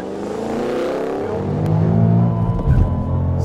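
A 2013 Ford Shelby GT500 launching hard from a standstill at about 3,800 rpm, its loud V8 exhaust close by, swelling and rising in pitch as it pulls away.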